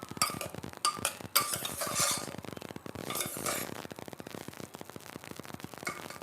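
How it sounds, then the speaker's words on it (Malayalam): A ladle stirs chunks of pumpkin and yam inside an open pressure cooker, giving a steady run of close scraping and clinking taps against the metal pot, with no voices. "നമുക്കൊരു തവി കൊണ്ട് ഒന്ന് ഇളക്കി കൊടുത്തിട്ട് നോക്കാം."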